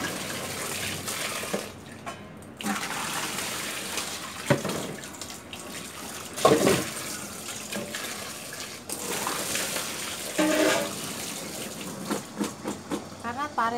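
Running tap water splashes continuously over cut bitter melon being washed in a kitchen sink, a close, steady rush with occasional louder splashes and shifts as the pieces are handled.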